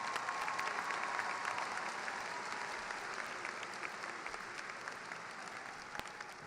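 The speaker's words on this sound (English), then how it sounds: "Please join me in applauding these individuals in the audience today." A graduation ceremony audience gives a steady round of applause, moderately distant and even, slowly tapering off, with a few louder claps standing out near the end.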